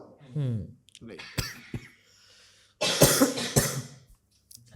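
A person coughing in a few short, harsh bursts amid talk and laughter, with a couple of sharp clicks between them.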